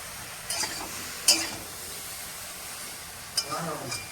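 A spoon stirs sliced ridge gourd with chili and turmeric powder in a hot pan, giving a steady soft sizzle with a few sharp scraping stirs, while someone speaks now and then.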